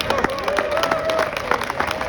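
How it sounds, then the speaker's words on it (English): Audience applause at a Navy gathering, a steady crowd of clapping hands with scattered sharper claps, moderately loud and continuous, with a faint voice or tone running through it. "How about another round of applause for our greatest convict?"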